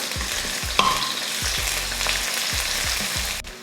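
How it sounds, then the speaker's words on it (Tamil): Onion, green chilli and curry leaves sizzle steadily in hot oil in a pan, with regular scraping stirs every half second or so, close and alone with no talk. "1 பெரிய வெங்காயம், 3 பச்சை மிளகாய், இதை வதக்கிடலாம்."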